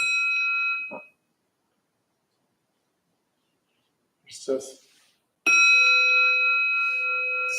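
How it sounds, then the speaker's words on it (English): A meditation bell is struck and rings with a clear, sustained tone; a brief spoken phrase comes between the fading first ring and a second strike. "I'm hitting the bell."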